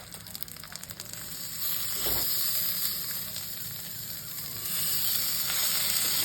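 Flat beans frying in a little oil over a low gas flame, a soft steady sizzle and hiss heard close but faint, rising slightly toward the end, with no talk.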